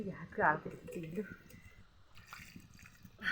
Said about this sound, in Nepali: पहिला म हात धुन्छु